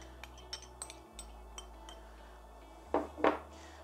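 Chopped onion for pea soup tumbles into a cooking pan with two quick clattering bursts near the end, after scattered small clinks of kitchenware against a low steady hum.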